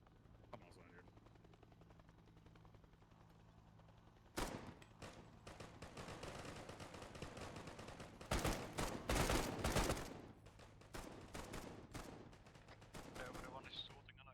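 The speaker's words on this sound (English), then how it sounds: "Everyone is shooting and I can't tell where's the enemy" Gunfire in an Arma 3 firefight: scattered sharp shots build into dense overlapping volleys with a loud, sustained burst near the middle, all over a constant low rumble.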